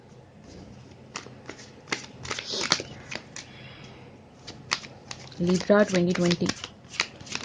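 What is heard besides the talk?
shuffling tarot cards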